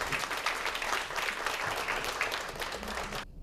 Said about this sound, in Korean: 질의응답 전에 먼저 박수부터 한번 부탁을 드리겠습니다